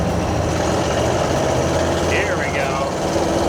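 A 1979 Jeep CJ7 engine drones loudly and steadily in second gear from inside the cab, a continuous low rumble with road noise, while someone speaks briefly over it.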